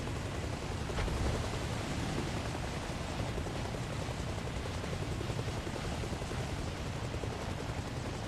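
A helicopter flies in Arma Reforger, giving a steady, dense rotor-and-engine roar at constant loudness throughout, with no voices over it.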